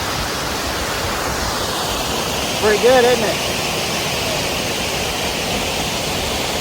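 A roaring waterfall in the Ozarks, swollen after flooding, pours as a loud, steady broadband rush that fills the whole scene, while a voice briefly speaks over it.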